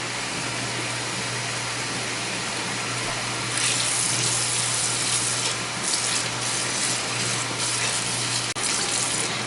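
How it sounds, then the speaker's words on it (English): Cold tap water runs steadily over cooked food in a kitchen sink to cool it during a preserving session, a continuous close hiss and splash that grows fuller partway through. "Meanwhile, I'm sticking them in cold water."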